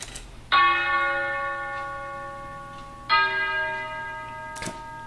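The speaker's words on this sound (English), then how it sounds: "here I have a nice little church bell." A church bell sample in an FL Studio music project strikes twice, about three seconds apart, each ring bright with long sustaining overtones that slowly decay, followed by a brief faint click.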